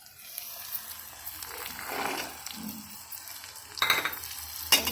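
Green peas tossed into a frying pan with ginger paste and stirred, a soft sizzle with a few scraping stirs and two sharp metallic clinks of a utensil on the pan, fairly quiet.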